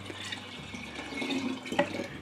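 Water pours into a Pinter brewing vessel, a close, steady gurgling fill with splashing swelling near the end, no voices.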